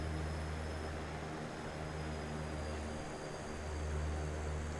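A De Havilland Canada CL-415 in Microsoft Flight Simulator 2024 taking off heavy, its propeller engines giving a steady, loud droning roar with a constant high whine on top, continuous and unvoiced.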